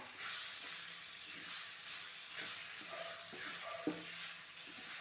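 Onion and tomato masala with turmeric and garam masala sizzles in a pan for a peas curry, a continuous frying hiss broken by several soft scraping stirs, close and alone without speech.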